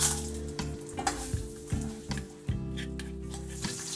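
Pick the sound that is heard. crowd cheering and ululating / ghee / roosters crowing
ghee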